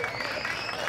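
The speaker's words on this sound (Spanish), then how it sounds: "Un aplauso para Nelson y su liderazgo en la comunidad" An audience at an outdoor community event in South Holyoke breaks into applause, a short burst of steady crowd clapping with faint voices mixed underneath.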